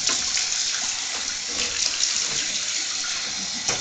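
Shower water runs steadily while a dog is bathed, a dense continuous hiss of spray with small splashing variations throughout, close and loud, with no talking.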